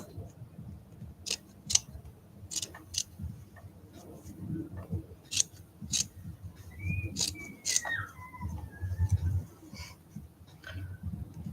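Scissors trim excess material from a handmade leopard gecko art doll, producing a series of crisp, close snips in an irregular rhythm over a quiet room, with a brief whistling tone midway.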